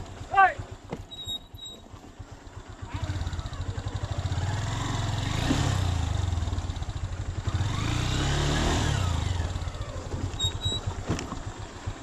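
A motorcycle climbs a rough, steep hill road near Thanchi in Bandarban, its engine swelling and falling in long throttle surges with clattering over the bumps, while a person speaks briefly at the start.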